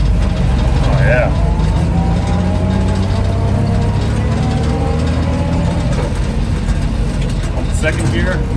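A Willys CJ5 Jeep with a swapped Chevy 4.3L V6 and rebuilt T-90 transmission climbs a mountain road in second gear, its engine droning loud and steady with a faint gear whine, while a person talks over it.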